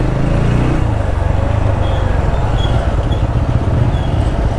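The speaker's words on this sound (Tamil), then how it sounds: "காரமடையில் டிராஃபிக் ஜாமாக இருக்குது." Traffic stuck in a jam on a road in Karamadai, heard as a continuous rumble of car and motorcycle engines, loud and steady throughout with no talking.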